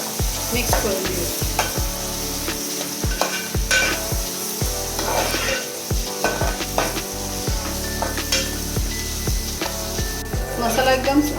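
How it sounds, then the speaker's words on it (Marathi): Red masala spices stirred in a hot frying pan while preparing karela, a loud close sizzle of oil under repeated scraping strokes of a spatula against the pan, with light knocks of the utensil on the rim. "त्याच्यात चांगलं आपण मिक्स करून घेऊया"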